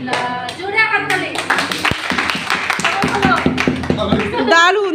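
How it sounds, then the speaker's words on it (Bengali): Workshop audience clapping loudly after a group song, steady hand claps throughout with voices singing and talking over them. "জোরে হাততালি।"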